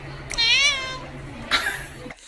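A cat gives two drawn-out meows, the first rising and wavering, the second shorter, close and clear like a greeting, with no other voices.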